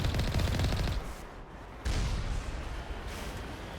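Heavy turret gunfire in the video game Mass Effect: a loud, dense burst of rapid shots for about a second, then a brief lull before a second sustained stretch of booming fire.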